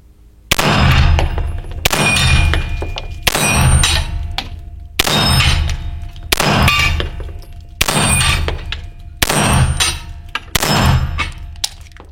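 Pistol rounds from an X-Calibur Match CO MK23 ring off a steel gong target, eight loud clanging impacts spaced about every one and a half seconds, each decaying into a metallic shimmer.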